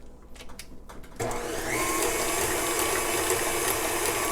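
After a few light taps, an electric mixer switches on and whirs steadily at high speed through keto almond and chocolate ricotta cake batter, loud and close with no voices.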